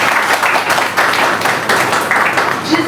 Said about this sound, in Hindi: उन बहनों के लिए तालियां होनी चाहिए।